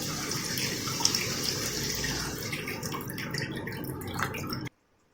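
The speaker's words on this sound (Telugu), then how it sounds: "ఇప్పుడు ఇందులో కొంచెం వాటర్ పోసుకుందాం" Water pours steadily into a pan of bitter gourd curry on a home stove, a close, continuous splashing gush that runs for several seconds, then cuts off abruptly.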